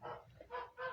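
Geese honking in a small enclosure where they are let out in the morning and shut in at night, three close, loud honking calls in quick succession with no talking.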